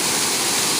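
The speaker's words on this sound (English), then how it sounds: "The stream of the water is coming toward me in Sildubi or near Malankona" Sildubi Waterfall near Malankona roars close by, a loud, dense, unbroken rush of falling water with spray, with no other sounds standing out.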